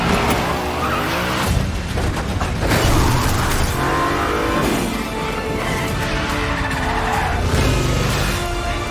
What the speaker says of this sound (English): Tom is driving and drifting one-handed through the streets of Rome